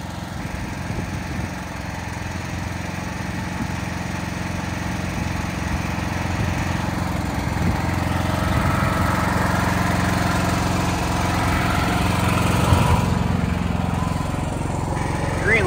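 A small generator engine runs steadily at close range during emergency equipment testing, a continuous droning hum that stays even throughout, with faint speech in the background.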